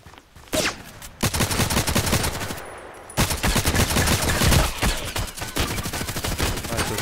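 Gunfire in the online shooter game Contract Wars: loud, rapid bursts of automatic fire in dense rattling volleys, broken by a short pause before the shooting resumes and continues steadily to the end.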